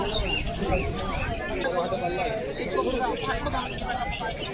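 Pigeons coo and chirp in a busy chorus at a pigeon market while people talk over them, the birds soft and overlapping throughout.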